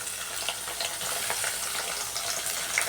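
Prawns going into a pan of reddish-fried potatoes, giving a continuous crackling sizzle with scattered pops, moderately loud and steady, with no voices over it.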